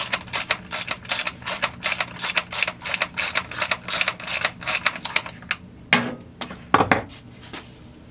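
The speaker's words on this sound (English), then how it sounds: "Let's take off the spark plug. And undo the spark plug." A ratchet loosens the spark plug on a Stihl MS200T chainsaw with a rapid run of sharp, regular clicks up close, followed by a few slower metallic clinks. No voices are heard.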